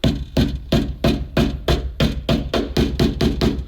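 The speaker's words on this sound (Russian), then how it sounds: "Аккуратненько молоточком. Чик." A small hammer taps a plug into a hole in the interior panel of an old KAMAZ 4310 truck, giving about a dozen quick, even, close metallic knocks in steady rhythm with no talk.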